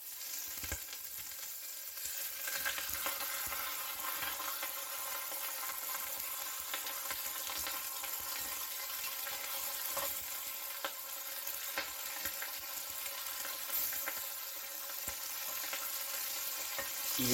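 Beef pieces and marrow bones searing in a pot for a pot-au-feu, a long even sizzle and fat crackle, close and steady with occasional small pops and clicks, no talking.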